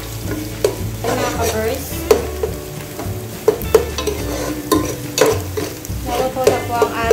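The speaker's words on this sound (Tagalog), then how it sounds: "Lutuin lang po natin ang ating sibuyas." Onion and garlic frying in a pan for bopis, with a continuous close sizzle and irregular sharp scrapes and taps of a spatula being stirred through, plus a short spoken phrase near the start.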